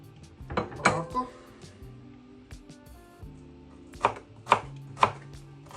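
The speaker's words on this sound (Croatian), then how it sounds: "Uzet ćemo šaloten i sjeckat na tanko." A knife slices shallots thinly on a cutting board while a vegetarian club sandwich is prepared, giving a run of sharp close taps and clicks, sparse at first and then spaced out in distinct strikes, with no talk.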